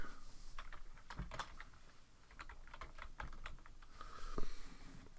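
Someone types a word into an Excel spreadsheet on a computer keyboard, a close, quiet run of irregular key clicks with short pauses between bursts and no talking.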